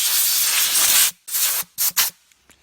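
Compressed air nozzle blowing off a car tail light seal: a loud, steady hiss for about a second, then two or three shorter sharp blasts with brief gaps between them, close to the microphone.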